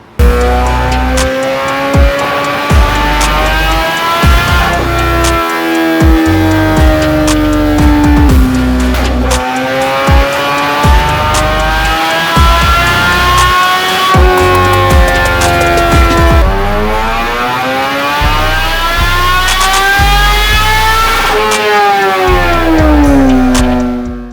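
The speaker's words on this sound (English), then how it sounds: "So I have the 2011 GSX-R1000 here on the dyno. I have it warming up yet again." A 2011 Suzuki GSX-R1000 sport bike running on E85 fuel warms up on a dyno, its engine revving up and falling back again and again, loud and close, with no talking.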